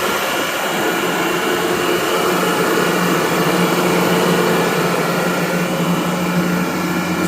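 A Gardner Denver EBE99K screw compressor runs with a steady, loud rush of air blowing through its cooler, an even broadband roar with no breaks for the whole stretch.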